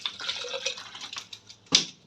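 Water poured into a strainer of blended raw mango while making raw mango sharbat, a soft trickling and splashing, faint and close, ending in a brief louder splash.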